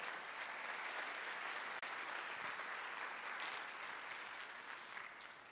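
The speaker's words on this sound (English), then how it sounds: "So let's give our panel another round of applause." Sustained applause from a large audience filling a packed room at an education summit, steady dense clapping with no break across the whole stretch.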